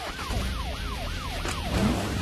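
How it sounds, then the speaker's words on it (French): Emergency vehicle siren from a French animated city rescue show, a wailing up-and-down tone repeating about four times in quick cycles over engine rumble. "On met la sirène, Père Noël."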